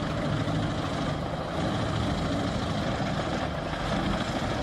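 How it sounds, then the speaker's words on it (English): The engine of an HD 810 wood chipper runs hard at a construction site, a loud, dense, continuous roar with rumbling and hissing that never lets up. "Have you ever witnessed the power of the HD 810 wood chipper?"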